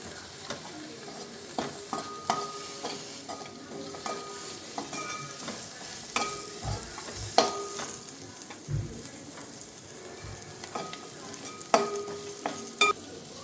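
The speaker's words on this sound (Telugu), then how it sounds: "ఒకసారి మళ్ళీ మిక్స్ చేసుకుందాం." Ginger-garlic paste and mint leaves stirred in a pan for paneer pulao, with repeated spatula scrapes and clinks against the metal over a soft frying sizzle, fairly close and without any talking.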